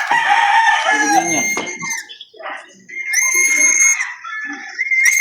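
Gamecock roosters crow loudly and close by at a Filipino cockfighting derby, several harmonic calls overlapping with cackles and clucks, while men chat in the background.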